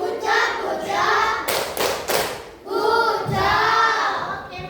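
A school class claps together for a classmate named Natasha, several short bursts of quick hand claps from a group of children in a classroom, with chanting voices in between.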